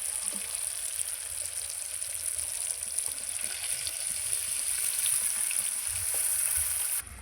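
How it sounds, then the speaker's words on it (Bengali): Water poured into a sizzling silver carp fish curry in a hot pan, a loud, steady frying hiss with watery splashing close by throughout, ending with a sudden drop. "এবার আমি জল দিয়ে দেবো"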